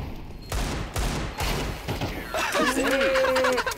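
Gunfire in Counter-Strike 2 during a bomb round: several sharp shots in quick succession, then a busier burst of firing with ringing tones and a short clattering effect near the end.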